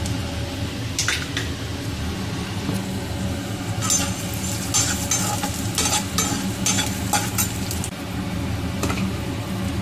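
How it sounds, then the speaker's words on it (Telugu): Chana dal fries in oil in a pan with a steady low sizzle. Intermittent scraping and stirring strokes and a few light clinks sound close by throughout. "ఇప్పుడు కొంచెం మనం ఏమేమి వేయించుకుందామో చూపిస్తాను నేను. కాస్త పచ్చెనగపప్పు"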